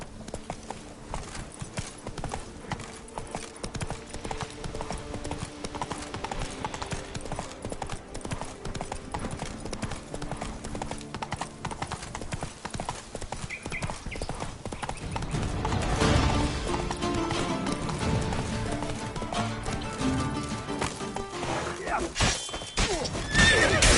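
Roach, a horse in the Witcher 3 video game, gallops with steady rapid hoofbeats throughout, neighing at times, under game music and voices, growing louder near the end.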